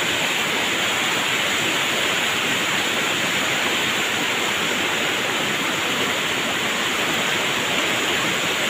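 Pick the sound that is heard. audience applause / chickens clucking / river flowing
river flowing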